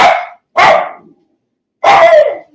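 A dog barks three times, loud and close: two quick barks in a row, a pause, then a longer final bark, with no talk over them.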